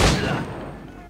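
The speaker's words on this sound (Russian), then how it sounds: "выстрелю я лично тебе в сердце" A single loud gunshot in Assassin's Creed 4 Black Flag opens with a sharp blast that rolls off into a fading boom and reverb.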